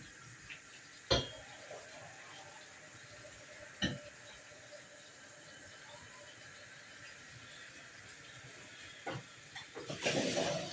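Steady hiss of steam from a boiling kettle, with a few sharp clinks and knocks of kitchenware and a louder rush of steam at the end.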